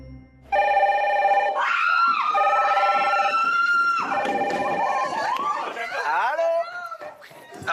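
The red telephone on the French reality show Secret Story rings loudly with repeated electronic melodic tones, preceded by a short quiet moment.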